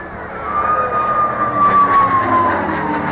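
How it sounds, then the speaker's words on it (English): A P-51 Mustang flies past at an air display, its gunports giving off a steady high whine that slides gently downward in pitch over a loud, continuous engine roar. "that characteristic whine for the gunports on the P-51 Mustang"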